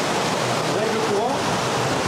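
Water from a stream in Portugal flowing as a steady broadband rush, close and continuous, with a faint voice briefly audible under it.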